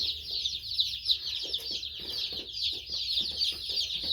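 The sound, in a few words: baby chicks chirping in their brooder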